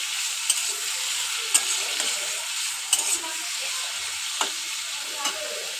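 Tomato slices fry with Bombay duck fish in a pan, giving a steady, moderate sizzle broken by a few sharp clicks of stirring, with no talking.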